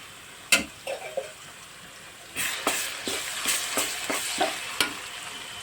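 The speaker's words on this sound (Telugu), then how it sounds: "అల్లం వేసినప్పుడు కొంచెం మీడియం ఫ్లేమ్లో గ్యాస్ సిమ్లో పెట్టుకోవాలండి, లేకపోతే అడుగంటిపోతుంది." Ginger fries over a medium gas flame in a village kitchen pan, with a soft steady sizzle and a series of sharp scraping stirs from a spatula, near and without talk.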